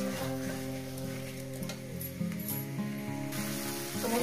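Ginger, garlic and spice paste fries in a pan for a fish curry, giving a steady close sizzle and crackle with occasional stirring scrapes, over a faint background hum.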